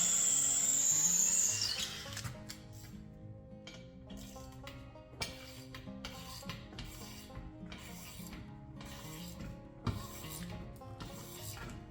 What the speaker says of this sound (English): we'll come back with the drill bit and we will drill down as far as we can with that bit